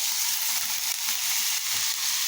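Bean sprouts and egg with instant noodles fry in a pan, giving a loud, steady, close sizzle with soft stirring scrapes and no one talking.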